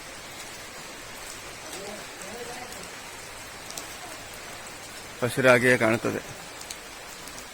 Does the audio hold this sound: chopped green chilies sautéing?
no